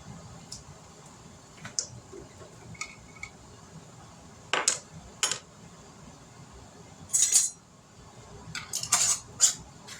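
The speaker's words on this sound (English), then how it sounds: "Now we're going to put the rings and lids on them." Metal rings and lids screwed onto glass canning jars of pickled okra, with sparse clinks and a few sharp clattering bursts of metal against glass over quiet background, close by.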